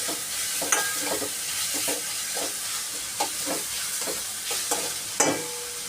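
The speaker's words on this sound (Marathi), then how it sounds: "सर्व मिक्स करून घ्यायचं आहे" Dal khichdi ingredients, including green chilli and ginger, being stirred and mixed in a hot pan, with a steady sizzle under intermittent spoon scrapes and a few sharper clinks, no voices.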